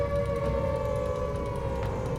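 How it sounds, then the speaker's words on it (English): Air raid sirens wailing in the naval strategy game HighFleet as a ballistic missile strikes, a sustained, steady mechanical tone holding over a low rumbling background, fairly loud and without voices. "Now the air raid sirens are going off because ballistic missile just came out of nowhere."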